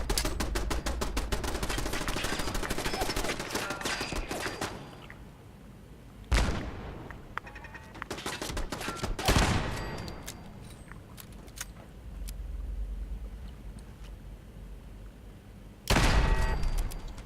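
Automatic turret fire in Fallout 4 comes in rapid, loud bursts, the first long and dense, then shorter volleys separated by quieter gaps, with one final burst near the end.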